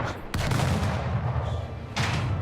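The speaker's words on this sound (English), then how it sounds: "Open fire." Warship cannon fire in the Anno 1800 strategy game, a loud dense burst of booming shots at the start and another volley near the end, over a continuous low rumble of battle.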